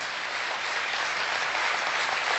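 An audience claps in sustained applause, a dense, loud, even wash of many hands that continues without pause.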